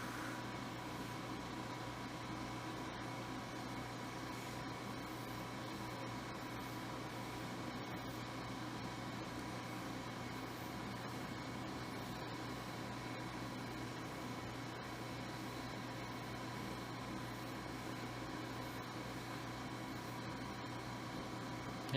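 A glassworking torch roaring steadily while clear glass is welded, a constant broadband hiss that holds level throughout with no other sounds.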